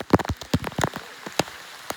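Heavy rain falls during a 24-hour stay on Girnar mountain, heard as close, uneven spatters and drops striking a nearby surface in irregular bursts, with no voices.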